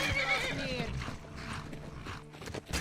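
Horse whinnying and hooves clip-clopping in the video game Skyrim, a clear neigh up front followed by scattered game noises and hoof sounds, with a person talking over it.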